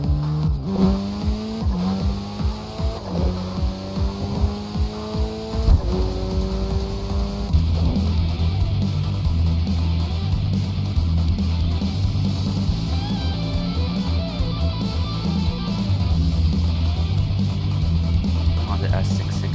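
Honda S660 kei car engine revving and racing in the Tokyo Xtreme Racer 2025 video game, steady rising and falling engine tones shifting through gears, with someone talking over it throughout.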